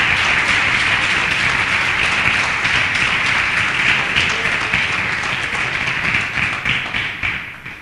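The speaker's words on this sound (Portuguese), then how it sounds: "se eu fosse você, eu aplaudia o Senhor" Church congregation breaks into sustained, loud applause, dense rapid clapping from many hands that holds steady and then tapers slightly toward the end.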